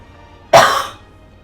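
A single sharp cough close to the microphone, loud and brief, with a short breathy tail that fades into quiet room tone.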